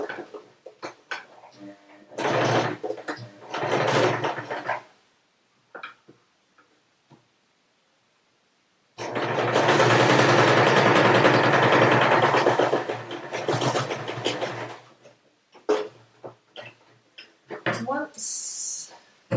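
A sewing machine stitches a simple fabric face covering in two long runs of rapid, even clicking, separated by quiet pauses and followed by shorter bursts, close and fairly loud.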